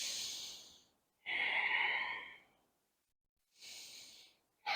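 Long, slow breaths during a yoga class, heard close and clear: a strong breath, a longer rushing one after a pause, then another, with silent gaps between and no talking.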